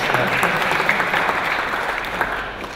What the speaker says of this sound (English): I believe environmental minister is hearing the applause.